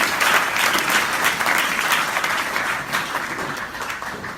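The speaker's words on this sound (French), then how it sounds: "podemos applaudir" A church congregation breaks into dense, sustained applause, many hands clapping together in a steady wash that carries on without pause and fades only slightly at the end.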